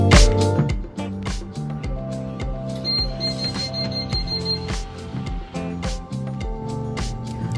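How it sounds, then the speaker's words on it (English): A flood-stop water leak sensor alarm beeps in rapid, repeated electronic tones, loud and close, with music-like layered chiming running steadily throughout. "When moisture or water is detected, it will set off an alarm and the light will turn red."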